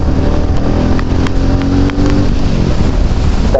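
A vehicle's engine pulls hard in second gear, a loud continuous drone close by, mixed with heavy rushing wind noise and no clear rise or fall in pitch.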